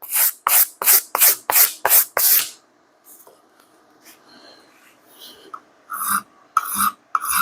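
A coarse file rasps over an axe head in about six quick, loud, evenly paced strokes, then falls to quieter handling sounds before a few more sharp scraping strokes close by.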